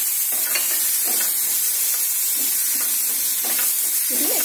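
Crushed roasted peanuts and tamarind paste stirred in a hot pan for masala dosa filling: constant bright sizzle with regular scraping strokes of the spoon, close and clear, no voices.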